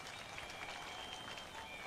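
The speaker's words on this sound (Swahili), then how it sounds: "hebu pigieni yeye makofi." A crowd at a church gathering in Makueni claps for Governor Mutula Kilonzo, a faint, distant, even patter of applause that holds steady with no voices over it.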